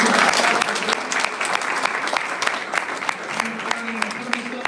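Audience at a university department conference applauding its students and scholars, a full steady round of clapping that starts loud and slowly thins, with faint talk underneath.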